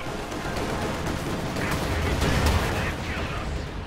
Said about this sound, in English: plus anti-tank strafe coming in from the north